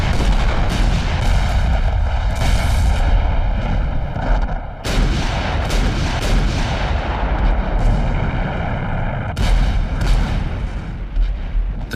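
Powerful Turkish artillery cannons fire during the First World War naval attack in the Dardanelles, a loud barrage of deep booming blasts and sharp reports, with big detonations around four and nine seconds over continuous rumbling gunfire.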